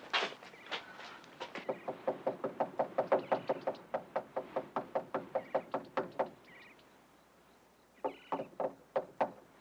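Insistent knocking on a door, several long runs of rapid hollow raps, fairly close, with a pause before a final short burst.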